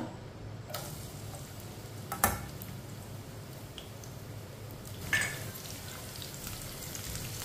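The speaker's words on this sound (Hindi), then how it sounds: "इसे ऐसे ही चम्मच चलाते हुए ब्राउन करना है" Finely chopped onion browning in a few spoons of hot oil for masoor dal, stirred with a spoon: a steady close hiss of frying with a couple of sharp spoon clinks against the pan, no voices.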